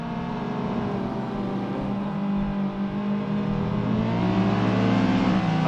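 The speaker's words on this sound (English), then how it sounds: "I think you can hear the difference there in the RPMs, John, of the two cars." Race car engines drone and rev in a sim racing video game at a Dover Raceway time trial. The sound is a continuous, loud, steady engine whine that rises in pitch toward the end, with no talk over it.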